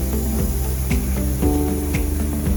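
A LEMATEC AS118 sandblaster gun blasting media, a constant loud hiss of compressed air with a repeating mechanical whine that sweeps in regular cycles roughly every half second, no voices.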